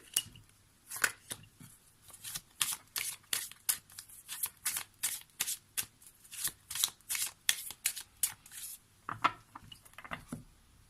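Playing cards being shuffled for a tarot-style card reading, a close run of crisp riffling and flicking bursts in steady rhythm, with a few louder snaps near the end and no talking.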